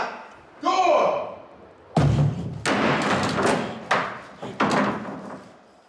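A few heavy thuds like a door banging, spaced a second or so apart, loud and close, following a brief vocal sound.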